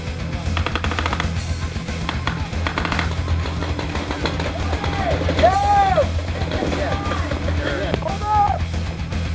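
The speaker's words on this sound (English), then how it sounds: "Are we getting a lot of crossfire over there or what?" Paintball markers firing in crossfire during a paintball game, rapid popping bursts mixed with shouting voices and general field noise, fairly close and loud.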